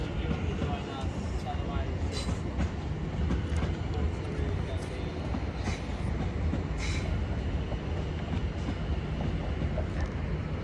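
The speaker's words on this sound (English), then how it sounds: "here we have 701-059 working a service bound for Strawberry Hill" A British Rail Class 701 electric train runs through Clapham Junction with a steady, loud rumble, rail clatter and wind buffeting, and someone talks over the continuous train noise.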